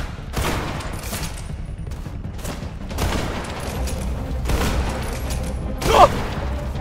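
Dense gunfire in the video game Grave/Digger: rapid repeated shots in several bursts, loud and close, with a sharper blast near the end.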